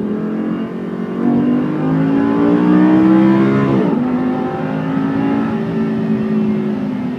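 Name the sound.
Lamborghini Superleggera V8 engine revving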